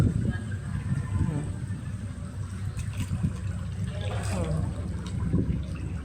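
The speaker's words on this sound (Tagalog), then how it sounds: "Lakas ng agos." A strong water current gushing from a dredging pump, a continuous rushing, churning flow with people talking over it outdoors.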